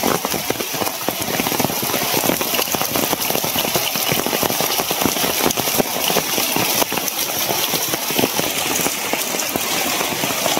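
Steady, heavy rain pours without a break, a dense, even hiss across the whole stretch, with no clear voices above it.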